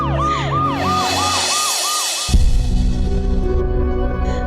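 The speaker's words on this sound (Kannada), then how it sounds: "ಆಂಬ್ಯುಲೆನ್ಸ್ ಇನ್ನೇನು ಬಂದ್ಬಿಡುತ್ತೆ." An ambulance siren wails in a loud, rapid repeating pattern, then gives way to a heavy roaring rumble as the vehicle arrives close by.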